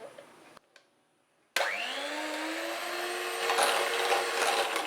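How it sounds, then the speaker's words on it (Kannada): Electric hand mixer whipping cream at speed 3 for a fruit sandwich; after a brief quiet pause the motor kicks in loudly and settles into a steady whirring drone that rises slightly in pitch and continues to the end. "ನಾನು ಇಲ್ಲಿ 3 ಸ್ಪೀಡಲ್ಲಿ ಇಟ್ಟು 1 ನಿಮಿಷ ವಿಪ್ ಮಾಡ್ತೀನಿ."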